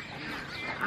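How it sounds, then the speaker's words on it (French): Cayuga ducks quack in a brief, faint burst at close range, with no voices over it. "Des petits canards cayougas qui se baladent."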